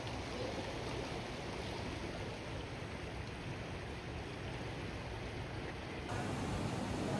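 Steady broadband rush of river water flowing near a bridge in Český Krumlov, continuous and even with no pauses, moderately faint, and no voices.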